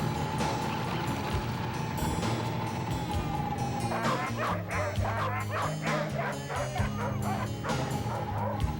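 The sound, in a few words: sled dogs barking excitedly before the race start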